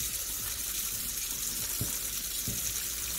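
Tap water running steadily over a Revlon One Step dryer brush in a sink, a continuous close hiss and splash with a few soft knocks, and no talking.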